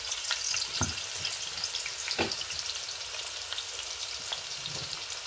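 Onion frying in hot oil, a dense continuous sizzle with a few soft thuds from stirring, close and steady, with no speech.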